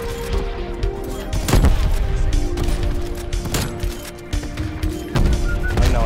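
A ray gun fires repeatedly in a Call of Duty zombies match, loud sharp blasts at irregular intervals, ringing over a busy game mix with tonal hums between shots.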